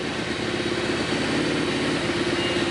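A Suzuki GS850 motorcycle engine idles steadily, with a close, loud, even mechanical rumble throughout and no voices.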